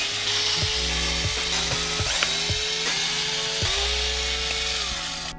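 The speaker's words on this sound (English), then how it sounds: "You completely remove this piece, you're able to unscrew the vents." Ratchet clicking steadily while the bolts holding the center-console air vents of a Kia Stinger are loosened, a rapid mechanical ratcheting in repeated strokes, close and fairly loud with no talk.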